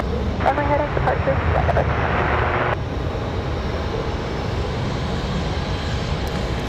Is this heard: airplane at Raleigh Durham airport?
yes